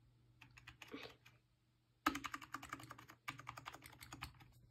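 Keys clatter on a new computer keyboard in quick, close bursts of typing, with a softer stretch near the start and a brief pause before a denser run of keystrokes, faint overall and without talk.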